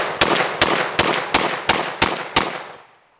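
Seven sharp, loud gunshots from a 10mm Hi-Point JXP pistol firing Fort Scott rounds, evenly spaced about a third of a second apart, each a hard crack with a brief tail, followed by fading echo.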